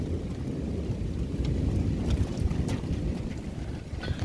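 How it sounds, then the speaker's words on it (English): Wind during a UK thunderstorm, a steady blustery rush with low rumbling gusts and faint rain patter, no voices. "Wind's picking up, it slightly rains and then it dies down and then it rains again."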